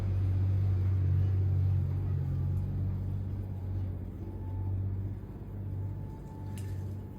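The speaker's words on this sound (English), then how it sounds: "This wheel's beginning to groan a little bit" A potter's wheel strains under a very large lump of soft wild clay for a big terracotta flowerpot, giving a low continuous hum and groan that swells and eases slightly.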